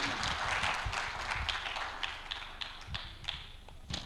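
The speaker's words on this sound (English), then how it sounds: "can we just say hello to our panelists with just a round of applause?" A panel-session audience greets its panelists with applause, a fairly faint, loose patter of claps that thins out toward the end.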